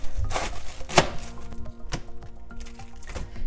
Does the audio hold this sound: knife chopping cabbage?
yes